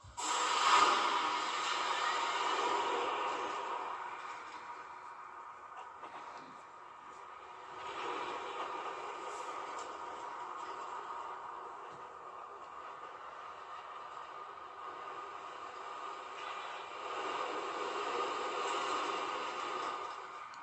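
A steady rushing, rumbling roar of a hydraulic launch coaster train in Planet Coaster running along its track, swelling and easing in waves, with no voices.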